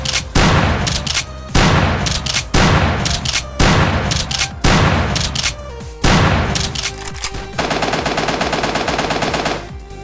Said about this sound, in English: pellets that burst out in a spread pattern when the shotgun is fired